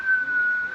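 A person whistles one steady, sustained high note to imitate the Batmobile from Batman Forever (1995), brief and clear with no other sound around it.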